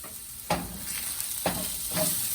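A pan of lightly salted vegetables for egg fried rice sizzles steadily and close, with three distinct scraping stirs breaking through the frying hiss at regular intervals.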